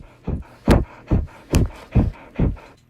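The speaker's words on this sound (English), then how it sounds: "here's the second clip of panting." Six rhythmic panting breaths, each a broad rasping burst repeating about every half second, loud and close with no talking.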